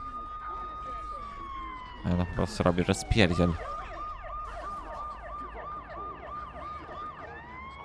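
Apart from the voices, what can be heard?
ambulance siren in a video game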